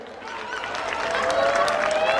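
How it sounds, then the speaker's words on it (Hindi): An audience at a school annual function applauds, a steady wash of many hands clapping that grows slightly louder over a couple of seconds, with faint voices in the crowd. "एक बार उनके लिए भी जोरदार तालियां हो जाए"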